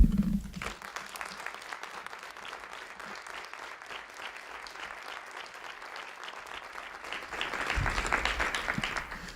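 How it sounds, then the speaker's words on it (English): An audience at an oratorical contest applauds steadily, dense clapping from a crowd that swells slightly louder toward the end. "give a round of applause to the educators, family members, and parents"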